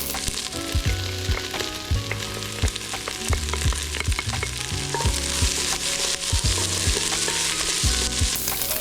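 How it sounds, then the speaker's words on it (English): Onions and garlic sautéing in a pan for a cioppino seafood stew, giving a steady close sizzle and fry with occasional stirring clatters throughout, no voices. "I wanna saute this up until it begins to become translucent."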